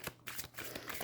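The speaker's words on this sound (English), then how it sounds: "I like to shuffle, to pull the cards using this method" Quick, quiet riffling of a tarot card shuffle in a few rapid bursts, heard up close.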